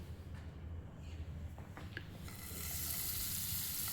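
Butter dropped into a pan of roasted makhana starts to melt and sizzle, a faint quiet crackle at first that rises into a brighter, steady hiss after a couple of seconds, with a few light scraping clicks.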